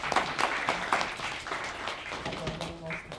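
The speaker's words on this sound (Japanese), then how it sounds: "参加者の皆様も、もう一度拍手でお迎えください" An audience at a media art festival opening ceremony in Takamatsu applauds the award winners, a moderate round of clapping that thins out toward the end while faint voices come through.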